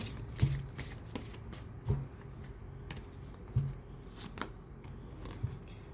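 Tarot cards are shuffled by hand for a reading, with soft, papery riffles and taps repeating in a steady rhythm close by, and no voices.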